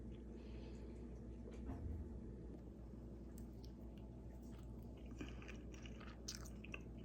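Grilled shrimp with cocktail sauce being chewed up close, quiet wet bites and soft crunches repeating over several seconds.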